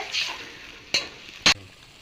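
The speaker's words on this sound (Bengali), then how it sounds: "এখন তেল তরকিটা ঢেলে দিলাম কড়াইতে এখন নাড়ি চাড়িয়ে" Vegetable curry being stirred in oil in a wok gives a low sizzle with a soft scrape early on, then two sharp, loud spatula knocks against the pan about half a second apart.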